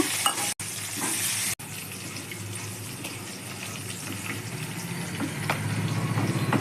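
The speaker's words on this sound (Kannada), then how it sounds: "ಈಗ ಹಸಿಮೆಣಸೆಲ್ಲ ಫ್ರೈ ಆಗ್ತಿದೆ" Green chilies, ginger and curry leaves fry in hot oil in a pan for rava khichadi, giving a steady, close crackling sizzle that runs throughout with two brief dropouts near the start.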